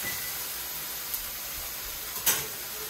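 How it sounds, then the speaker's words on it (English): Meat sizzles steadily in a hot pan, a constant bright hiss with a couple of brief louder pops near the end. "Listen to that sizzle. Hear that? That's when you know the pan is ready."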